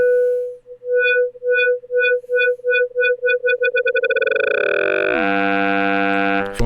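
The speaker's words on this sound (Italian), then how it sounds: "qui sentiamo l'inviluppo della modulazione, quindi dell'LFO in questo caso" A synthesizer tone is pulsed by an LFO whose rate keeps rising, turning slow, loud, separate beeps into a rapid flutter that merges into a steady tone. The tone then bends upward into a dense buzzing timbre, heard alone and prominent.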